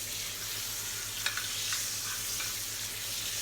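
Chicken breast skin fries in butter in a pan with a steady soft sizzle, with a few faint clinks and scrapes as the butter is spooned around, under a low background hum.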